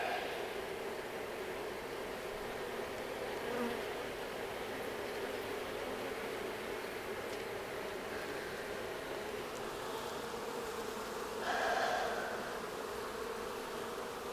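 A honeybee colony buzzes in a steady, faint drone during a midsummer hive inspection, with a few brief louder passes of individual bees near the listener.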